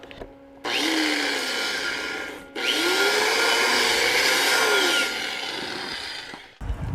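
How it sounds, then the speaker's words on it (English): A power tool with a wire wheel scours a fluxcore-welded joint in two loud sustained runs with a whining tone that rises and falls under load, separated by a brief pause, then winds down. "we're gonna wire wheel this"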